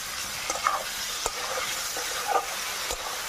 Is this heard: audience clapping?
no